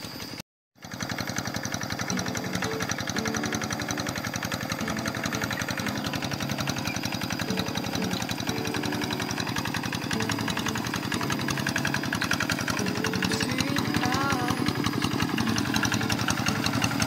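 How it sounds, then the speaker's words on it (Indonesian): A small RD85 hand tractor engine chugs steadily and loudly throughout while harrowing a rice paddy, a continuous rough mechanical drone with no pauses after a brief dropout at the start. "traktor ini adalah RD85 ya, dengan menggunakan gardan G1000 ya"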